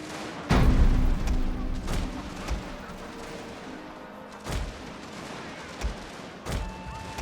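Rifle volleys and booming shots crack out across a Total War battlefield, first a heavy opening blast and then scattered reports at irregular intervals, with faint talk partly underneath.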